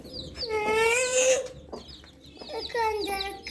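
Domestic chicken kept as a pet at home, giving two drawn-out, wavering clucking calls close by with a short pause between, and no talk over it.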